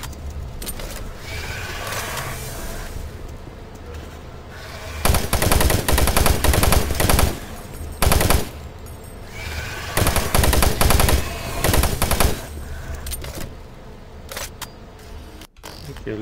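Gunfire from Doom 3, in repeated loud bursts of rapid automatic shots separated by quieter gaps of game background noise.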